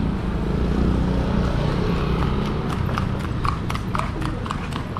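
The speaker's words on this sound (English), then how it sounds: "Oh, look, horse." Horse hooves clip-clopping on a street in a Cebu City slum area, with a rapid run of sharp, close strikes over a steady roar of traffic and street noise.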